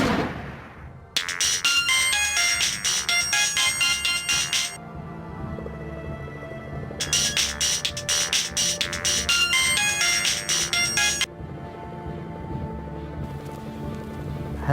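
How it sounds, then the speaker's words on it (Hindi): A telephone ringtone plays in two long loud bursts of repeated tones, each a few seconds, with a softer musical background continuing between and after them. "शगुफ्ता के भाई ने फोन करके बहन और बहनोई को घर आने के लिए कहा।"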